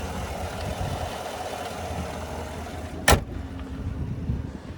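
A 2017 Chevrolet Tahoe Premier with a 5.3-liter naturally aspirated V8 idles in a steady, even hum heard from the front of the truck, with one sharp click partway through and no speech.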